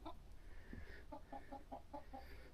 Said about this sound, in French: Donc là, la volaille,